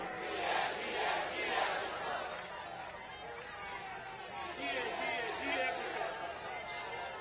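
Crowd at a PPP 55th Foundation Day rally chanting a slogan for Bhutto, distant rhythmic massed voices rising and falling in waves, fairly faint and reverberant across the whole stretch.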